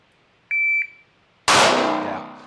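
Electronic shot timer at a timed B8 target shooting drill gives a single short, clear beep, followed a moment later by a loud, sharp gunshot that rings out and decays.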